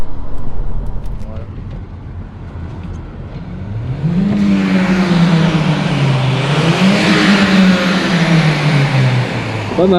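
A 2019 Skoda Scala's 1.5-litre 150 hp TSI engine revs up loudly, its pitch rising and wavering as it roars close by, with voices speaking at the start.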